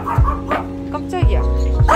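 A dog barks several times close by, short yipping barks mixed with excited speech from people nearby.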